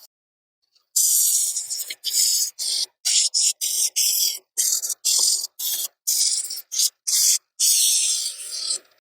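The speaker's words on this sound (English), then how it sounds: "So I'm going to start out with 180 grit, and we will go up through there." Wood being sanded by hand with 180 grit sandpaper, rapid back-and-forth rasping strokes in quick short bursts, close and loud with brief gaps between strokes.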